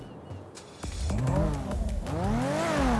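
A revving car engine in the game FiveM rises and falls in pitch through several throttle bursts, a custom vehicle sound, loud and close, with no talking.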